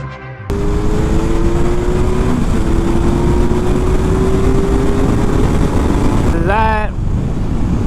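A 2021 Kawasaki Ninja 1000SX motorcycle accelerating from the rider's position, engine note rising steadily through a long pull, then a quick gear change near the end, loud and close amid wind noise.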